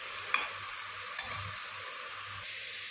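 Onion sautéing in a pan while being stirred, with a quiet, steady sizzle and a few soft scrapes of the spoon close by, no talking.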